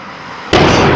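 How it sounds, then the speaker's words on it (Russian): A gas cylinder explodes in Samara with a sudden loud, close burst that cuts in halfway through and keeps roaring as a broad, rumbling blast after a quieter lead-in. "Произошел взрыв 3 баллонов, предположительно."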